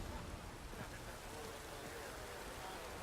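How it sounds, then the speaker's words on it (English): Steady rain in the video game The Witcher 3 hisses continuously, dense and even, filling the scene without any voices. "No one's doing any work in this rain."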